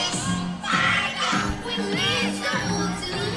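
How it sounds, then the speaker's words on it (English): Crowd noise and cheering ring out at a women's combat-sports fight, with energetic, overlapping voices and shouts filling the space steadily throughout. "We got a cheering session back here."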